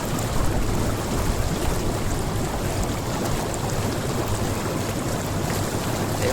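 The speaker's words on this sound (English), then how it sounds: "Look at the rain, it's raining" Steady rain falls around a hot outdoor jacuzzi in Penmarch, France, a dense, even hiss of drops spattering on water and surfaces, continuous and fairly close with no voices.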